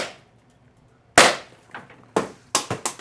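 A SABRE pepper projectile launcher fires PAVA-Shot rounds outdoors: a loud sharp pop, then several more shots at uneven intervals, including a closely spaced group of three near the end.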